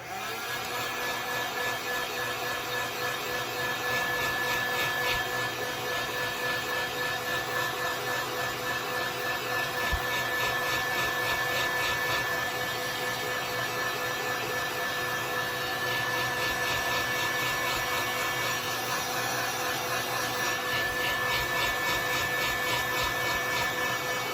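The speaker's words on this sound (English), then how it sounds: "you want to take your heat gun, put it on low or high, and dry it real quick" A heat gun blows steadily to dry a tumbler, making a continuous, even fan-and-air whine with a faint hum, close and moderately loud for the whole stretch, no talking.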